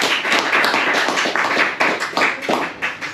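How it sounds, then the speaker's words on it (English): Audience at a talk on saving children claps together for a few seconds, a dense patter of hand claps that swells and dips, no voices heard. "give yourself a round of applause for coming"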